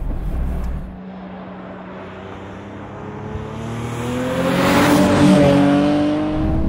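A supercharged Nissan 370Z accelerates hard, its engine note climbing steadily in pitch and growing louder over several seconds, heard from inside the car without talk.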